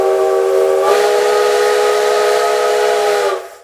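The 1906 DM&IR steam locomotive number 332 sounds its steam whistle in one loud, sustained chord lasting about three seconds, wrapped in steam hiss, before it cuts off sharply.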